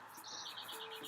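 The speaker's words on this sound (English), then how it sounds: "Only the sounds of the birds and the wind were there in the rainforest." Birds in the Amazon rainforest give a quick series of high, repeated chirps, faint and somewhat distant, over a soft background hum of insects.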